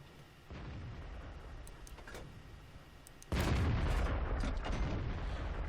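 Booming tank cannon fire from World of Tanks hits hard partway through, a loud broadband blast that settles into sustained rumble over an already noisy battlefield bed with faint ticking.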